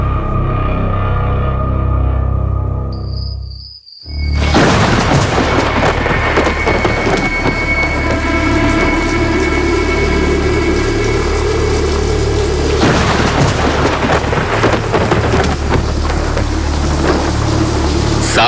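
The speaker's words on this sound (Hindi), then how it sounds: "एक रात जोरों की बारिश हो रही थी" Heavy rain pours steadily and loudly as a sound effect, with rumbling thunder underneath; a brief near-silent dip occurs early before the downpour surges back in full.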